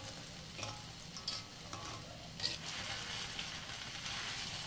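Pasta and kale tossed in a frying pan, a soft continuous sizzle broken by a few light utensil clicks and scrapes, faint and close with no talking.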